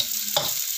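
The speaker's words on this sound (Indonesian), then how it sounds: "Nah, ini goreng terus sampai harum ya." Potatoes and chicken frying and being stirred in a pan for a soy sauce dish, a brief scrape of the utensil over a steady sizzle, close and alone without talk.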